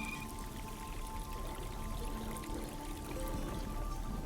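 Water pours in a video game, a soft steady splashing trickle with faint tonal game sounds alongside, no talk.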